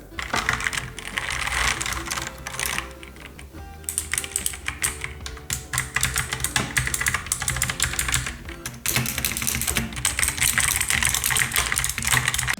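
Rapid, continuous clacking of a mechanical keyboard with stock switches being typed on, dense keystrokes with brief lulls, fairly close.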